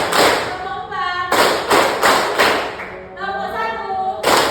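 A group of students in a classroom claps hands in short rhythmic bursts, sharp close thuds alternating with children's chanting voices.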